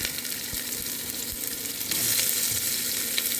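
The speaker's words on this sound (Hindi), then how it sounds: "तो प्याज को हम थोड़ा सा भूनेंगे" Onions fry in hot oil for matar chole, a dense, steady crackling sizzle close to the pan, slightly louder toward the end with a few soft thumps.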